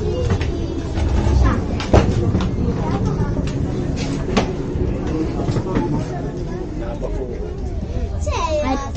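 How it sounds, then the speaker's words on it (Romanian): A train runs on rails with a continuous rumbling roar, scattered clunks and a rising metallic squeal near the end as it picks up speed, while people talk over it. "E tare cu trenul."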